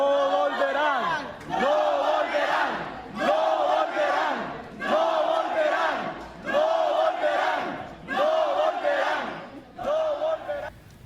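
University crowd at UNA Valle de Sula in Honduras cheering in loud, rhythmic bursts of chanting for the PLR party, five or six surges separated by brief lulls, close and full.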